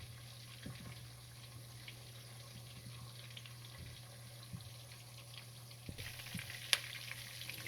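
Sausage fries in grease in a pot for gumbo, a faint, steady sizzle with a low hum underneath, broken by soft clinks and stirring sounds near the end.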